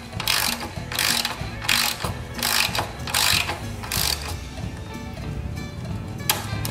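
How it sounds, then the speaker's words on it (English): A hand tap cuts threads in a stripped hole during a Heli-Coil repair, turned back and forth to break off chips: repeated ratcheting, clicking metal bursts in an uneven rhythm, close and fairly loud, with no talking. "Of course, you're gonna wanna go back and forth to break the chips off, depending on the size of the hole you're tapping."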